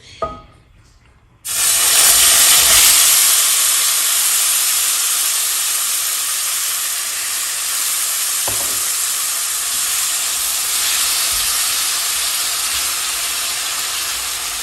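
Chopped tomato (jitomate) dropped into hot oil in a pot, bursting into a loud, steady sizzle and hiss after a brief quiet moment, crackling continuously up close with a soft stir partway through.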